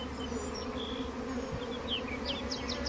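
A swarm of honey bees hums in a low, steady drone, with individual bees zipping past close by in short, higher whines.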